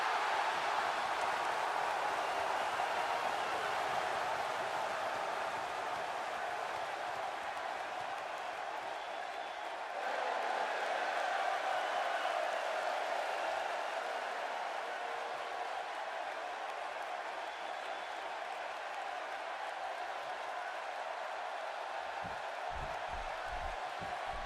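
A large WrestleMania arena crowd reacts to Bret Hart's entrance with a steady, distant roar of mixed cheering and applause that holds for the whole stretch, with no clear voices above it.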